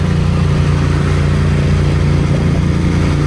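Royal Enfield Continental GT650 motorcycle fitted with a Red Rooster exhaust, running with a loud, steady, throaty drone at close range, constant throughout with no pauses.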